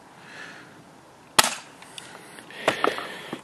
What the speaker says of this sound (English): the gun fires 3 BBs on each shot, each trigger pull